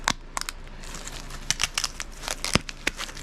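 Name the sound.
ripping apart 3M gooey adhesive tape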